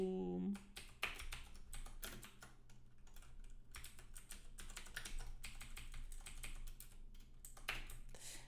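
Close, quick computer-keyboard typing while writing Node.js code: steady clusters of soft key clicks with short pauses, fairly quiet, alone without speech.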